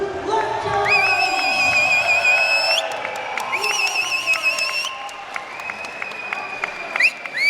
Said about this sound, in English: Another standing ovation from the crowd.